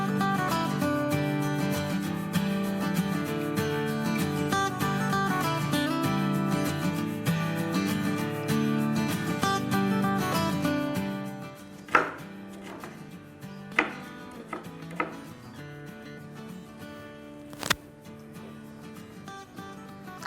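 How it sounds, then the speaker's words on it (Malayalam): Capsicum being chopped into small pieces with a knife on a board for a salad, quick steady cutting strokes under background music, then a few separate louder chops after the music drops. "ഇതിങ്ങനെ നമ്മൾ ക്യാപ്സിക്കം ചെറുതായിട്ട് അരിഞ്ഞ് ചെറിയ ചെറിയ കഷ്ണങ്ങളായിട്ട് അരിഞ്ഞ്"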